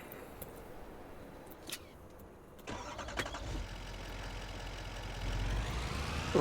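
A truck engine in Farming Simulator 25 cranks and catches, then settles into a steady idle that swells louder toward the end, preceded by a few faint clicks and knocks.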